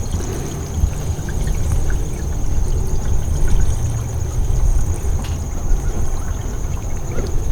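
Water pours and trickles steadily on a boat deck while a pump reservoir is being primed, with a continuous close-up rushing stream and no pauses.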